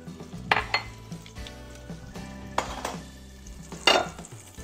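Olive oil and butter heating in a skillet, a soft sizzle under several sharp clinks and scrapes of a utensil against the pan, close up and intermittent, with no talking.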